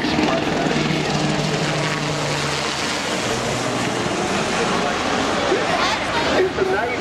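Jets roar overhead at the 2004 Bathurst 1000 motor race, a loud, broad, steady rumble that fills the whole stretch with a dense engine wash and no clear breaks.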